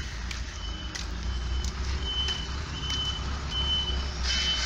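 A truck reverses with a steady, evenly spaced electronic reversing beep repeating over a low diesel engine rumble, heard at moderate distance outdoors in the rain.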